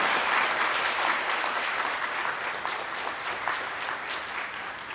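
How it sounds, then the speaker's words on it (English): Applause for the event sponsors at a youth TEDx gathering, a sustained, even roar of many people clapping together, fairly loud and continuous, easing slightly in volume toward the end. "So can we please give them a big round of applause?"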